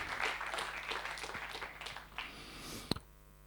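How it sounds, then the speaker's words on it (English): Faint audience applause at a talk on securing democracy, a dense patter of clapping in a hall that gradually thins and fades toward the end. "Maybe we can have a applause."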